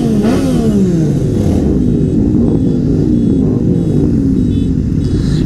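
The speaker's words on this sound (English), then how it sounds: "Traffic, man, traffic." Loud, close motorcycle traffic on a Las Vegas road with close to a hundred bikes, engines rumbling and revving continuously, one machine audibly accelerating with a rising whine near the start.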